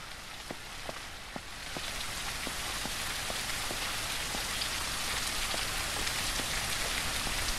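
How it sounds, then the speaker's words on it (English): Rain falls in the low-poly open-world survival game Surroundead, a steady hiss of rainfall with scattered distinct drops ticking on a surface, quiet and constant throughout without speech. "And it's raining outside."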